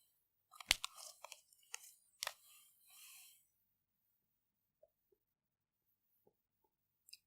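Scratchy strokes of marker or chalk writing an equation on a classroom board, a few quick bursts close together, then mostly quiet with faint taps.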